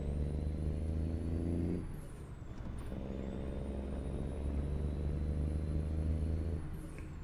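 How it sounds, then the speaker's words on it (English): A truck engine idles and runs steadily in American Truck Simulator, a low droning rumble with a harmonic whine above it that dips briefly, then returns to the same constant tone. "Oh, I love the sound of this engine."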